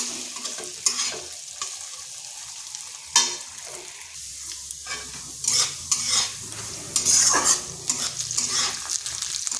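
Mung dal is lightly fried in oil and stirred, with a steady close sizzle. Irregular scraping strokes and soft clinks of the spoon against the pan repeat throughout, and no one speaks.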